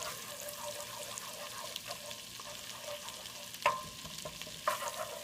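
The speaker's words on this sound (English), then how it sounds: "So you see it now sizzling." Garlic sizzles softly in melted butter in a pan over gentle heat, a steady low crackle with faint stirring and a couple of light clinks, no talking.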